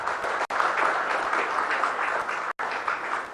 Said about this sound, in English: Loud applause, ladies and gentlemen,